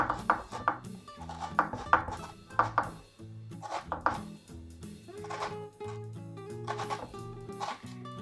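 A knife chops an onion finely on a cutting board, giving quick, uneven runs of close, crisp taps with brief pauses for Thai green curry prep in a home kitchen.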